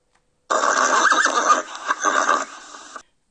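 A horse neighs loudly and close, one long whinny that quavers and trails off over a couple of seconds.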